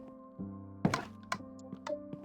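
Minecraft player getting hit: a sharp, thudding in-game hit sound lands near the start, followed by a few softer knocks over a steady low game tone, brief and fairly quiet, with no talking.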